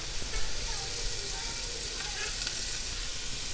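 Onions fry in a pan with curry leaves for chicken biryani, giving a steady, hissing sizzle that stays even throughout, soft and close with no voices over it.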